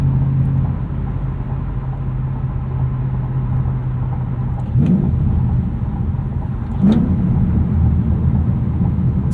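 A 2007 Ford Mustang Shelby GT with a loud straight-piped exhaust and 5-speed manual, heard from inside while driving: a steady low droning rumble at cruise, broken by two brief surges around shifts.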